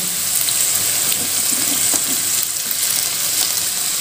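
Garlic, carrot and cabbage stir-frying for Hakka noodles give a steady, close hiss and sizzle throughout, with faint scraping as the vegetables are tossed and no one speaking.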